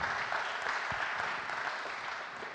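A conference audience at a corporate event in Paris claps steadily for three presenters, a dense, even wash of applause with no voices over it, tapering slightly toward the end.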